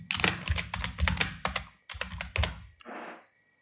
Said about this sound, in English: So hit F2 on the keyboard and call it